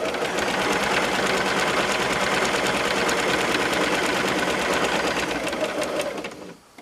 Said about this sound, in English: I've sewn across there